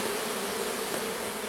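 Honey bees from a small swarm being hived in a Japanese-style hive make a dense, continuous buzz, close and steady throughout with no other sounds.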